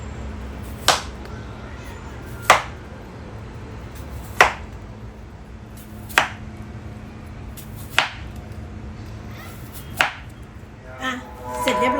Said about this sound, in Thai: หั่นเป็นแผ่น ก็จะหั่นค่อนข้างบางหน่อยนะคะ